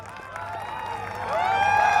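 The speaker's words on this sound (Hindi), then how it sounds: "बहुत जोरदार तालियां हमारे पूर्व सांसद जी के लिए" An audience claps for a former member of parliament at an indoor gathering, with moderate applause building and growing louder toward the end, while a tonal whine or feedback hangs over it.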